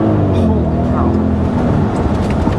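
A 2003 Audi RS6 sedan with a 450-horsepower twin-turbo V8 and all-wheel drive accelerates. A loud, steady engine roar fills the cabin throughout, with someone talking over it.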